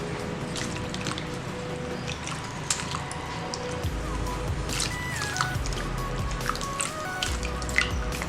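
Hands squeezing and mixing thuthuvalai rasam ingredients with ground pepper, cumin, garlic, dried chilli and asafoetida give steady wet squishing and dripping, close and moderately quiet, with faint talk in the background.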